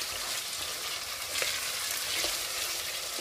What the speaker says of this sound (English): Now give it a stir.